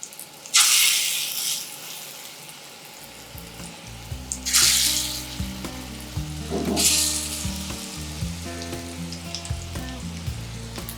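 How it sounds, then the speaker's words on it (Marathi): Coated paneer slabs hitting very hot oil in a pan, with loud bursts of sizzling as each piece goes in, settling into a steady frying crackle under some clinking of utensils. "तेल कडकडीत गरम केलं. आता यावर हे पनीर ठेवायचं कोट केलेलं."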